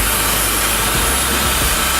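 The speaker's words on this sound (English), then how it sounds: "And then a cool shot like every other blow dryer." A Dyson Supersonic hair dryer on cool shot roars with a continuous breathy rush of air, close up and loud, with a couple of faint bumps partway through.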